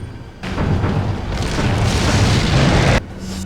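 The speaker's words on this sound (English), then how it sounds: "Let's see if this grenade also stuns him." A grenade blast in Resident Evil 4 erupts as a single loud, sustained boom with a rumbling low end, lasting a couple of seconds before cutting off abruptly, with game ambience before and after.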